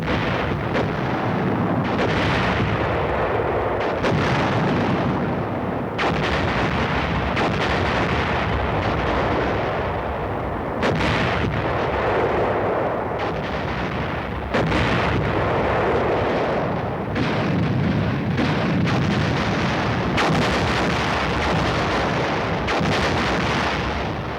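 U.S. Army artillery guns firing a heavy barrage: deep, loud booms and blasts follow one another in overlapping succession, forming a continuous rolling roar with repeated sharp reports throughout.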